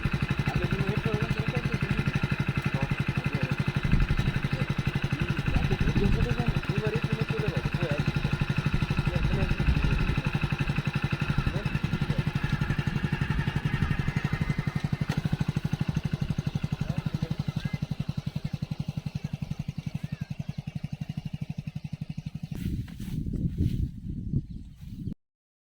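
A motorcycle engine runs steadily throughout bike riding practice on a farm, a continuous close mechanical hum and rumble with faint rattling. It tapers off and turns uneven near the end.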